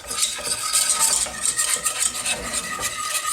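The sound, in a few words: stirring milk into flour roux in a pot for mac and cheese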